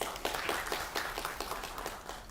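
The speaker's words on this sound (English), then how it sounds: "another round of applause for the pre-GRM events." Audience applause after a session of pre-GRM events, a faint, steady patter of many hands clapping heard from a distance without a break.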